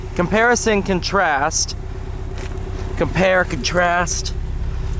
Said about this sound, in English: Actually doesn't sound half bad at idle.